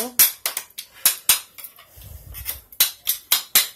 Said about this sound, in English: you gotta clean up the surface. With a putty knife.